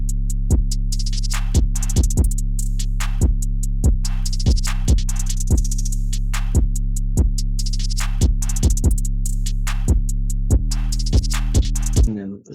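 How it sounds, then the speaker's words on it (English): A looping drum beat with punchy kicks and crisp hits in a steady, repeating rhythm over sustained low bass tones. "And the drums all together sound like this."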